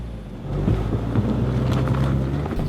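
A 2016 Mazda CX-3 AWD revs and pulls through snowy Rocky Mountain terrain, its engine note rising into a steady, moderately loud drone with wind buffeting the microphone.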